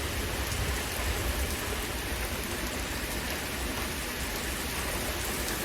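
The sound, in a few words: heavy rain during severe thunderstorm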